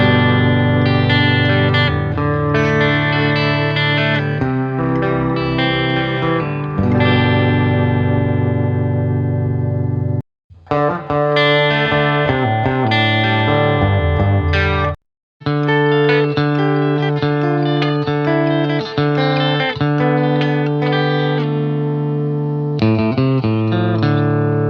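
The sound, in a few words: electric guitar played in stereo with effects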